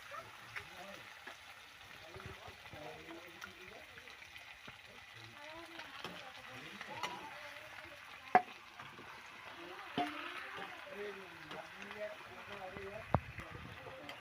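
Meat fries in a pan with garlic, making a faint, steady sizzle with occasional stirring clicks beneath continuous talk.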